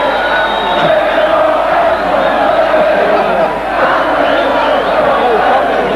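A large outdoor homecoming crowd roars and cheers for the Hull Kingston Rovers rugby league team after their 1980 Wembley final, a loud continuous wall of shouting and whooping with no letup.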